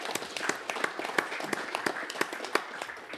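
A hand claps repeatedly against an ankle at a live graduate reunion show, making a steady run of sharp, fairly close slaps about three per second, with faint room noise in between.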